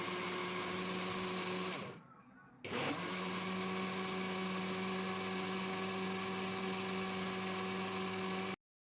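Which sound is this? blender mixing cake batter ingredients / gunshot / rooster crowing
blender mixing cake batter ingredients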